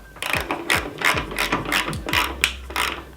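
A ratchet wrench driving a 5mm Allen fastener during a tailgate assist install on a Ford Maverick, with about eight crisp, evenly spaced clicking strokes close up, no talk.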